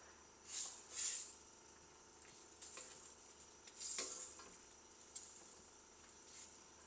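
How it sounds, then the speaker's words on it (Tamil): Lentil vadas drop into a pot of simmering paruppu urundai kuzhambu, giving faint bubbling and a few soft hissing spurts and splashes over a quiet background, with no voices. "இப்போ நான் இந்த வடையை இதுக்குள்ளே சேர்க்க போகிறேன்"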